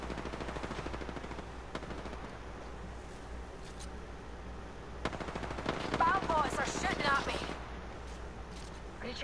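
Rapid smart-bullet gunfire in the Apex Legends video game, a steady stream of faint, quick shots with a few sharper cracks, set low under game voice lines and background noise.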